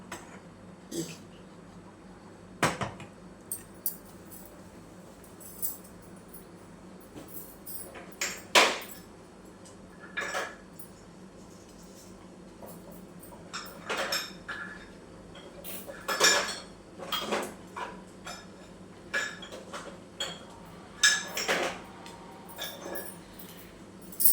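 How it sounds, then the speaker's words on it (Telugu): Spoon clinking and scraping against a pan while mango custard pudding is stirred, a series of intermittent metallic taps and scrapes, close and moderately loud, with no talk. "మాడకుండా అప్పుడప్పుడు కొంచెం ఇట్లా తిప్పుకుంటా ఉండాలి"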